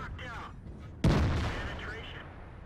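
A single heavy tank cannon blast from the T57 Heavy in World of Tanks, one loud sudden boom followed by a long fading rumble, with a voice talking faintly before it.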